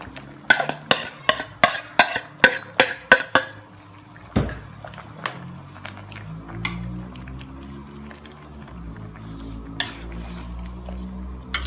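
Pickled bamboo shoots go into a pan of simmering fish curry and are stirred with a utensil. A quick run of sharp metallic clinks and scrapes comes first, then a soft bubbling, liquid simmer with occasional single clanks.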